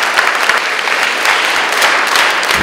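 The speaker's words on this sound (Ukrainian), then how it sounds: "І в нагороду натхненні оплески глядачів." Enthusiastic audience applause after a performance by an American singer accompanied by a symphony orchestra, a dense, steady roar of many hands clapping that fills the whole stretch without a pause.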